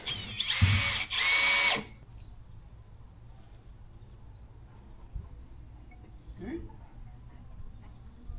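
A power drill driving 5 by 70 mm wood screws into climbing frame timber, two loud close whirring bursts back to back, then quiet outdoor background with a faint later tool sound and some talking.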